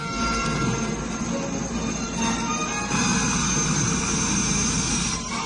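A two-seat autogyro's engine drones steadily and fairly faintly for several seconds, a continuous buzzing hum with a slight rise partway through and no voices.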